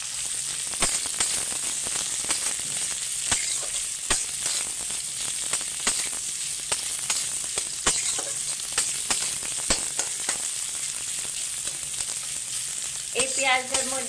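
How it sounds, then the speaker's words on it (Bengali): Two large sliced onions sizzling in hot oil in a pan, a steady close crackle with frequent stirring clicks and scrapes, plus a short burst of other noise near the end. "ওই তেলের মধ্যে পেঁয়াজগুলোকে দিয়ে দিচ্ছি"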